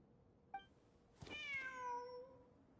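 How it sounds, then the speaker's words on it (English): A cat meows in a video game, a faint short chirp followed by one long, clear, drawn-out meow that trails off, with no talking. "Wait, there it is! The cat!"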